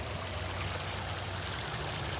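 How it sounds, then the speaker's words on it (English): Whitewater rapids of a river, rushing and churning in a steady, dense roar of water that fills the whole moment at close range, with no voices. "Now you whitewater rafting, baby. Look at that. That's white water, right?"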